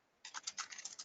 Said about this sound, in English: Oh, I always do this with my keyboard.